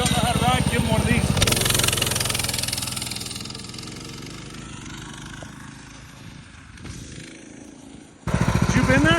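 Minibike with a stage 3 motor revs hard up close, then its pitch and loudness sag as it eases off before snapping back to a sharp, loud rev at the end.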